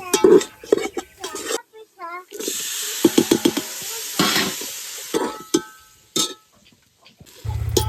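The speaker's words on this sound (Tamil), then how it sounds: "அதுவுமே நல்லா கிளறிட்டு இப்போ பிரியாணி மசாலா சேர்க்குறேன்" Biryani masala for mutton biryani sizzles in a pan as a spatula scrapes and clanks through it in short bursts, with someone talking between the strokes.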